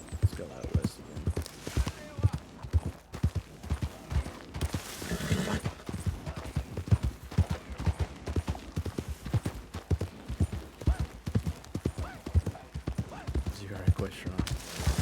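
Horse hooves gallop in a steady rapid clip-clop rhythm in the RedM roleplay game, a continuous close drumming of hoofbeats throughout with a voice talking over it.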